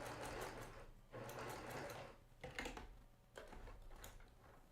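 A domestic sewing machine stitching an inset seam on a quilt block at a slow, careful pace, its whirring needle running in three or four short bursts separated by brief pauses.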